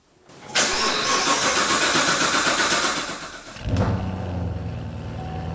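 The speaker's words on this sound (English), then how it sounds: "These DI cars, they love the freaking long crank." A Corvette with direct injection cold-starts after a long crank: a sustained whirring crank of about three seconds, a brief dip, then the engine catches and settles into a steady, close, fairly loud idle.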